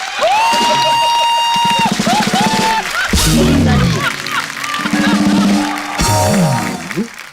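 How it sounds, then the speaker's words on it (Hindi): A television comedy studio audience applauds loudly and cheers, a dense continuous roar of clapping, whoops and shouts with music and a voice mixed in throughout. "एक बार जोरदार ताली हो जाए मेरे लिए।"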